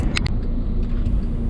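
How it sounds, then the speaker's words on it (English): Inside a 2010 Skoda Laura 1.9 TDI diesel on the move, a steady low engine and road rumble fills the cabin, with a couple of brief clicks near the start. "So driving the Skoda Laura."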